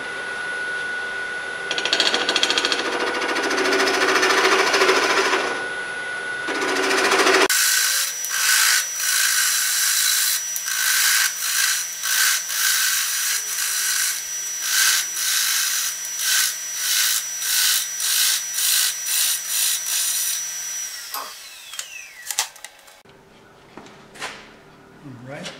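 A catfish hollowing tool cuts into wood spinning on a lathe, giving a steady scraping, rubbing hiss with a rhythmic series of bursts as the cut proceeds, then a brief pause and a last scrape.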